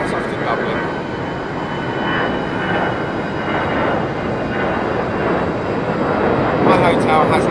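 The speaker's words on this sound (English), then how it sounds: "The A320. Aer Lingus, that's off to Dublin." Aer Lingus Airbus A320 jet departing London Heathrow, a broad steady engine roar that holds at a fairly loud level throughout, with a voice speaking over it.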